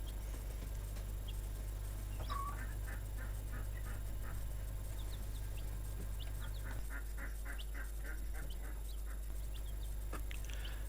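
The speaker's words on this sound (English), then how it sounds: "we also found some time to pick up some Lohman Brown ladies" Lohmann Brown laying hens cluck and call in short, repeated bursts at a moderate distance, with a steady low hum running underneath throughout.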